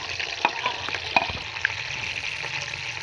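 Onions frying in hot ghee for mutton pulao, a steady low crackling sizzle with a few sharper pops, fairly quiet and close with no talking.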